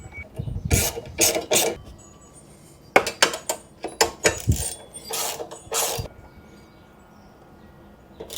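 A hand ratchet tightens bolts on a 2022 Honda Trail 125 motorcycle, making loud, close bursts of rapid metallic clicking. Several short runs are separated by pauses, then a quieter tail follows, with no talking.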